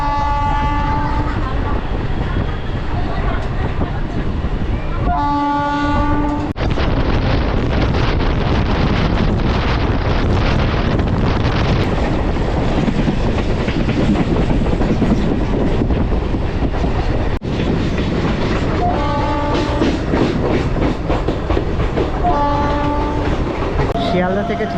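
Sealdah to Mayapur train pulling out, with short repeated horn blasts near the start and again toward the end over continuous loud clickety-clack and wind rush that fills the whole stretch.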